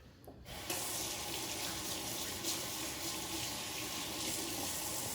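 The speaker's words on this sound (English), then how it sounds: "I gotta wash my hands again." Kitchen tap water runs steadily as hands are washed under the stream, a constant close splashing rush that starts abruptly after a brief quiet moment.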